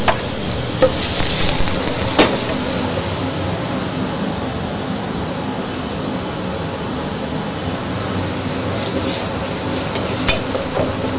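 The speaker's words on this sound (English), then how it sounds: "While the mushrooms cook, a chopped onion is wilted." Chopped onion wilting in a butter-coated sauté pan beside cooking mushrooms, a loud continuous close hiss and sizzle with occasional spoon knocks and stirring scrapes, no talking.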